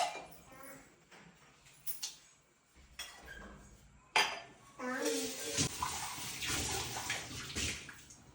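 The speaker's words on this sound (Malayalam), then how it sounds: "കുറച്ച് വെള്ളം ഒഴിക്കണം." Water poured into a pot during home cooking, a splashing run in the latter half among clinks of pots and utensils, with a voice talking throughout.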